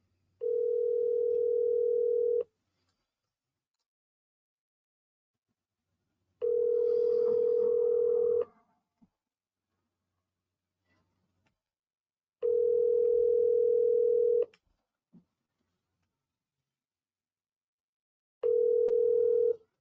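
A phone call ringback tone repeats as a steady single-pitched tone, four two-second bursts roughly every six seconds with silence between, clear and fairly loud, alone.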